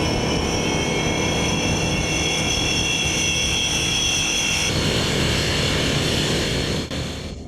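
A Russian Su-33 carrier-based fighter jet gives off a steady, loud, broadband roar with a sustained high whine, constant throughout and easing slightly at the end.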